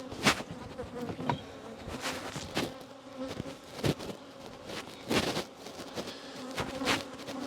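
Honey bees swarm and buzz around an open hive during a late-summer queen change, a continuous close drone with individual insects zipping past louder at moments.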